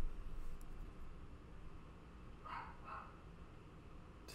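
A dog barks twice in quick succession, faint and somewhat distant, over a steady background hiss with no talking.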